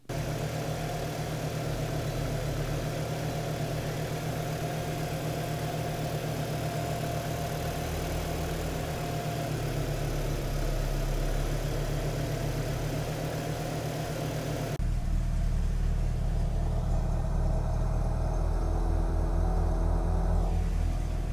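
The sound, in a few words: Volkswagen Corrado G60 engine idling unevenly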